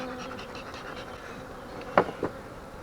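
Honeybees buzz in a steady close hum during an apiary hive inspection after prolonged rains, with a couple of sharp knocks from handling the frames near the end.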